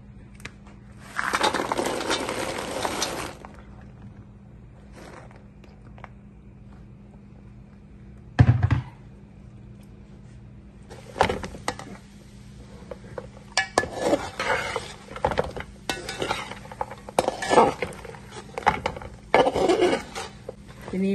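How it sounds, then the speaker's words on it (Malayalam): Fried plantain pieces are stirred into thick jaggery syrup in a pan, giving bursts of scraping, clinking and rustling with quiet gaps between them. A voice talks faintly in the background. "കായ ഇട്ട് ഒന്ന് ഇളക്കിയെടുക്കാം"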